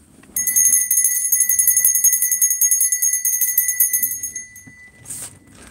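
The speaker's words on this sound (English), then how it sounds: "I got my Liberty Bell hanging up there." A hanging Liberty Bell replica rings in a rapid series of bright metallic strikes for about four seconds, loud and alone, then fades before a brief rustle.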